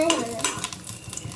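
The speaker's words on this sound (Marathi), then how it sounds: "चिकन आता तडतुड तुडतुड होणार आहे दोस्तों" Chicken frying in oil gives a brief, busy sizzle layered with stirring scrapes and a clink of utensils against the pan, close and moderately loud.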